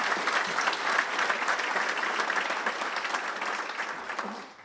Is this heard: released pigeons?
no